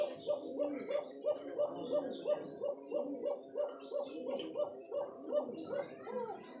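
Pigeons on a pigeon farm stocked with fancy breeds such as coca, rajgolla, Danish, giribaj and Bombay, giving steady, evenly paced rounded coos that repeat throughout, close and clear, with faint overlapping calls from other birds.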